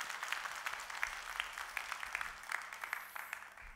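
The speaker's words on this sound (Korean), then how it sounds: "찬양팀 여러분 다시 한번 크게 박수 한번 해주셔요" Church congregation giving the worship team a round of applause, faint and distant, with scattered individual claps standing out over a soft, steady patter.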